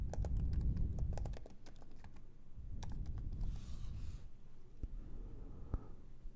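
Steady typing on a computer keyboard, fast bursts of light key clicks with brief pauses, close and fairly quiet, with no talking.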